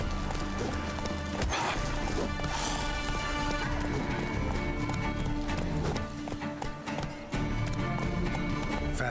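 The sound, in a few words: horse Roach galloping, from the video game The Witcher 3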